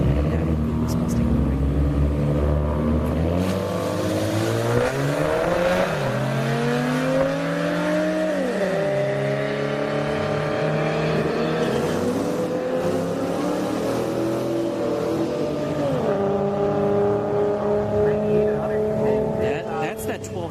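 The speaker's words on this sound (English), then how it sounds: "V6 Mustang going up against, I think, an EcoBoost. Yeah, EcoBoost Mustang." A 3.7-litre V6 Mustang drag racing an EcoBoost Mustang on a track, engines revving up through several gear changes with rising and dropping pitch, loud and sustained, heard from the stands over crowd noise and talk.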